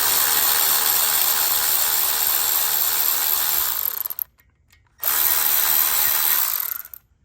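A power tool spins out 3/16 hex bolts on a Yamaha TTR 50 carburetor, loud and close, in two bursts split by a short pause near the end, with no talk.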